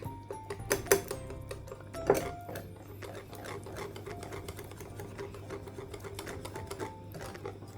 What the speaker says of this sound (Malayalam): ബീറ്റർ ഉപയോഗിച്ചിട്ട് ബീറ്റ് ചെയ്തെടുക്കാം